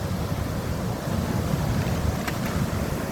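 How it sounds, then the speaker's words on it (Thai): Strong, fast water surges out of a canal outlet beside a large elevated drainage structure carrying floodwater toward the sea, a steady close rushing roar with wind buffeting, and no talk. "ไหลมาอย่างรุนแรงมาก จ้าเลย คือสายน้ำที่ไหลไปค่ะ"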